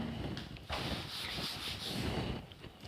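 An eraser or cloth rubbing a number off a classroom board, giving a soft, steady scrubbing and swishing sound close by, with no speech.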